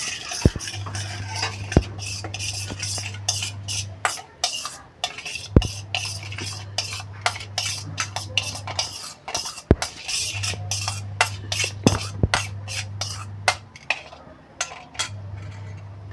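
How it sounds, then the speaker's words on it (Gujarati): A spoon stirs salt into a chili masala mixture with oil for Vadhwani raita marcha. Steady, close scraping and swirling goes on throughout, with frequent sharp clinks of metal against the bowl and no speech. "હવે આપણે એમાં જરૂર અનુસાર મીઠું નાખી અને હલાવીશું"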